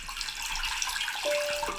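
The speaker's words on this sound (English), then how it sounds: "I just want to fucking hear water drops" Running water with a continuous bright splashing and trickling texture, fairly close and steady throughout, with no voices.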